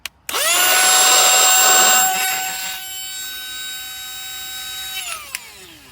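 A YUNYILAN cordless handheld vacuum cleaner switches on with a thin, high-pitched motor whine that holds steady for several seconds, sounding weak and lacking suction, then winds down and stops.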